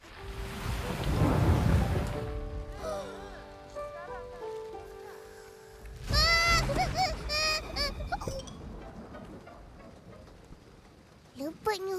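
Heavy rain with rumbling thunder during a hazy spell, loud and broadband at first then easing, as voices talk over the lingering downpour.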